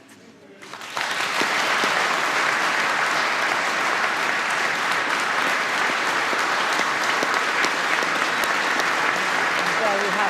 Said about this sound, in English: the crowd in the Royal Gallery standing to applaud the Irish President Michael D. Higgins